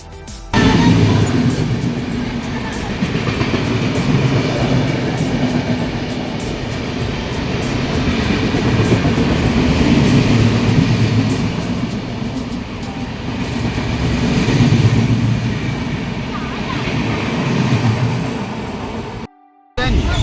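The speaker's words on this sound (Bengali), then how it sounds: "এদিকে আমরা লোকাল ট্রেনে উঠে গেছি" A local commuter train rumbles along continuously and loudly, a steady rolling roar with rhythmic rattling of the carriages throughout.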